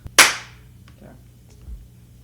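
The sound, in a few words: hand clap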